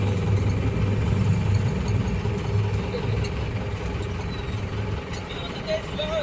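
A van's engine runs steadily with a low, continuous rumble as it moves slowly among palm trees in search of a parking spot, the drone holding even from start to finish.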